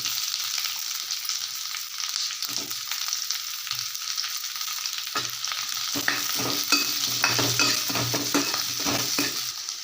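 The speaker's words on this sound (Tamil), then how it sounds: "இப்போ வெங்காயத்தை இதில் போட்டுக்கலாம் வெங்காயம் எல்லாத்தையும் இதில் இப்படி போட்டுக்கலாம்" Chopped onions frying in a pan for hotel-style paneer butter masala give a steady, moderate sizzle. Scraping and clinking stir strokes come in more often toward the end, and no one speaks.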